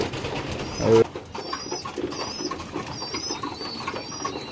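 Soft pigeon cooing in rain under steady background noise, with a brief louder thump near the start and faint high chirps scattered throughout.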